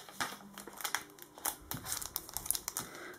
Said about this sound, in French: on va ouvrir son petit courrier